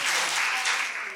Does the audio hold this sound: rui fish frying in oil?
no